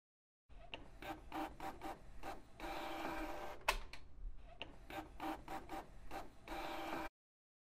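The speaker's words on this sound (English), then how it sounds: "we want to examine separately the individual work phases of the printer" A printer runs through its work phases, a recorded measurement signal of repeated sharp mechanical bursts and rasping feed noises, with short pauses between strokes and a louder clunk midway.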